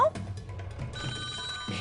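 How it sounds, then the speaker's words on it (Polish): A telephone rings on a Polish TV quiz show, one short ring bursting through the studio while a host talks over it. "I jest telefon, no proszę"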